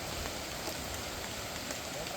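Steady rain falls at a night fishing campsite in Trinidad, an even, dense hiss of drops pattering on surfaces that fills the whole moment without pause or voices.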